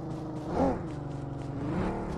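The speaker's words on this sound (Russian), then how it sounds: "Блин, а вы слышите звук машины?" A car engine drones steadily while driving in the PUBG video game, a moderately quiet rumble with a brief rise in revs early on and no talk over it.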